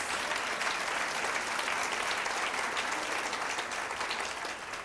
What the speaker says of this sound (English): Now, I think that deserves a round of applause.